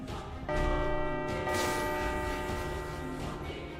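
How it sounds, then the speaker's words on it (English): Bells chiming in the Alder Forge video game, a bright ringing strike that starts abruptly and sustains with shimmering overtones, later joined by a brief swishing accent, loud and close. "now we can put bells on everybody."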